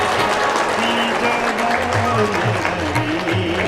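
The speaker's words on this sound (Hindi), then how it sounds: "इनका बहुत अच्छी तरह स्वागत करना है तालियों के साथ करिए" Audience applause greets children about to perform at a yoga event, steady clapping filling the room with voices talking over it throughout.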